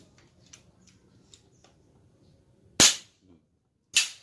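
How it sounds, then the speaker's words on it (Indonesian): An FX Impact air rifle is dry-fired with no air, so only its spring mechanism sounds: two sharp, loud snaps about a second apart, following soft handling clicks and rustle. "bunyi per saja gitu, tidak ada anginnya"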